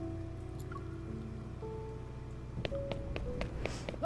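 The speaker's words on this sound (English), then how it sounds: "The incessant pitter-patter of rain gets on my nerves" Rain pattering in the video game Love and Deepspace, a steady soft patter under sustained music tones, with a few sharper drips and splashes standing out toward the end.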